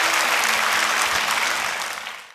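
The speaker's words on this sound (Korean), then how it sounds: "이 박수로 축복하고 격려하겠습니다." A church congregation bursting into warm applause for a classical guitar performer, dense continuous clapping that gradually tapers off.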